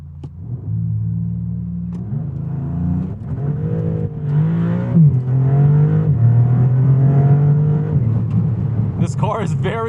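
A 2023 Maserati MC20 Cielo engine rumbles low, then revs hard in a launch and climbs through rising gears in a loud, close acceleration, ending with a sharp higher-pitched whine.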